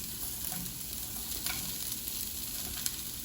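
Carrots and asparagus fry in a pan with caramelized onions for vegetable fried rice, giving a steady, close sizzle with a few soft stirring clicks and no talking.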